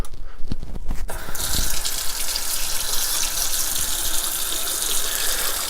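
A jar fills with running tap water, a steady loud gush after a brief initial splash, continuing alone for several seconds without talk.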